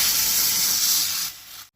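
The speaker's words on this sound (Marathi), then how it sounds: "आता 3 शिटयो काडपाक जाय." A pressure cooker holding black-eyed peas and water lets off a loud, sharp steam hiss, close and alone, that fades out within about two seconds.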